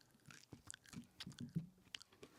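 Ground coffee beans chewed close to the mouth, a quiet run of fine crunching and biting sounds in irregular rhythm.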